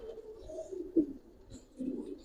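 Gribaz pigeons at a loft cooing softly up close, with low, murmuring coos in short, uneven bursts.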